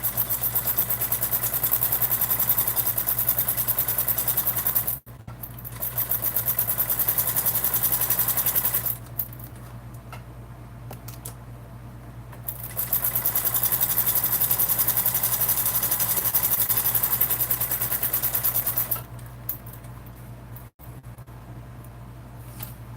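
Sewing machine stitching a seam on a fabric bag, a close, steady mechanical whirr in long runs broken by short pauses between bursts of sewing.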